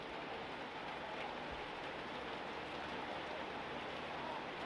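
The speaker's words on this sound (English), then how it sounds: "That rain is really starting to pelt down now." Rain pelting down over an outdoor junior Australian rules football match, a steady dense hiss of falling drops filling the whole stretch with no talk over it.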